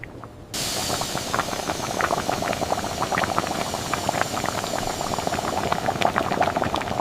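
Carrot halwa made with milk and pure desi ghee cooks in a factory kettle, a dense, continuous bubbling and crackling simmer that starts abruptly and stays loud and steady throughout.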